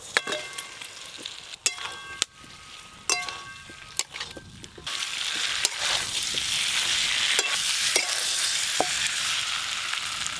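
Fried potatoes and cashew paste stir-fried in a pan for a vegetarian aloo dum. A spatula scrapes and knocks in sharp, irregular strokes over a steady sizzle that grows louder and denser halfway through.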